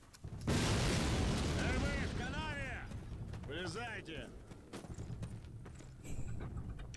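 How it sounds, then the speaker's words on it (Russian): A big cannon in Call of Duty 4 fires with one loud, close boom, and a long rumble rolls out after it. Voices come and go over the fading roar. "Назад в укрытие, эта пушка сейчас бабахнет."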